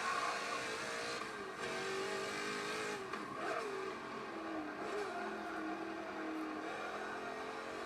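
A modified Subaru Legacy's engine drones steadily through a lap in Forza Motorsport 7, a continuous rising and falling whine with faint tyre noise, loud and close throughout with no talk.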